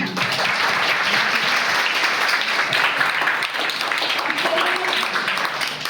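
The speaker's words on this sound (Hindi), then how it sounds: "तालियां।" An audience claps throughout a school play at a government school in Majhgawan, Katni, a short drama about the dowry system, with steady, loud applause from many hands and faint voices mixed in.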